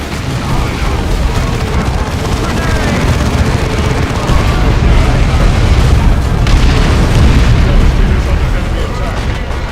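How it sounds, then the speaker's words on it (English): Orcs firing guns amid explosions in the Dawn of War 2 video game: a dense, continuous barrage of booms and gunfire rumbling loud throughout, with voices mixed into the battle noise. "Orcs are firing on us."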